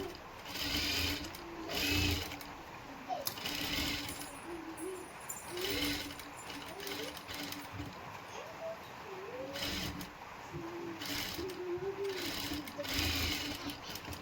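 A sewing machine stitches a princess blouse in short repeated runs of rapid mechanical whirring, close and clear, with pauses between bursts.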